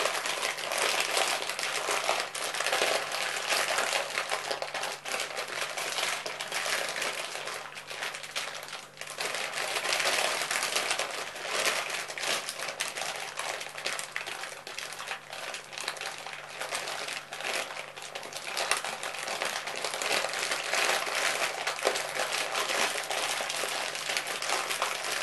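Continuous crinkly rustling, like a wrapper or plastic being handled, steady and fairly loud throughout with no talking.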